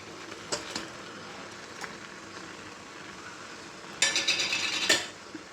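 Jaggery is stirred into dal with undrallu in a pot, with a few soft spoon scrapes and clinks against the metal, then a brief busier flurry of clattering strokes near the end.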